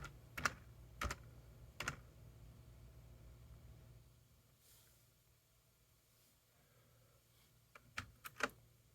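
Keystrokes on a computer keyboard as a Linux command is entered: a few quick clusters of clicks near the start, a quiet pause, then another short burst of taps near the end, close and fairly soft.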